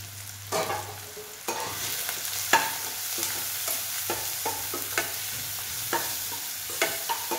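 Turmeric, chili powder and coriander-cumin powder fry in hot oil in a pan for masala bhindi, a steady close sizzle broken by a run of sharp spoon-scraping stirs.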